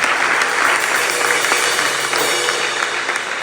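A church congregation at a Sunday service claps in loud, sustained applause that fills the room for a few seconds without a break.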